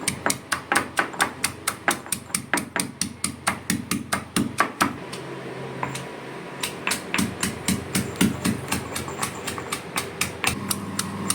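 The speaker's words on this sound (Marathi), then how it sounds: "सुरुवातीला हळूहळू ठेचा नाहीतर जर जोरात ठेचलात तर अशी लसूण बाहेर येईल" Garlic crushed by steady pounding, a long run of sharp, evenly spaced thuds close by, with a brief pause partway through before the rhythmic blows resume.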